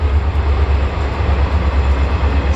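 A train rolls past on a nearby track behind a property, a loud, steady rumble of wheels and cars that holds constant without speech.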